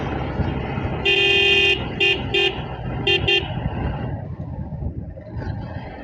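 A Hero Xtreme 160R motorcycle horn honks once in a long blast, then in two pairs of quick short toots, over a steady engine and road rumble.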